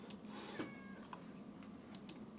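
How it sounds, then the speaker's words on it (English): A cat meow sound effect, a short recorded meow with a faint, slightly noisy background and a few small clicks around it. "I'll search for cat meow, let's say, or dog bark,"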